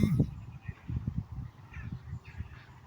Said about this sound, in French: Parce qu'on entend peut-être un peu les canards en fond.